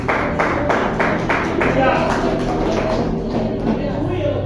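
Congregational clapping in a church service, rhythmic hand claps repeating under a loud wash of voices before thinning out into the ongoing sound of the hall.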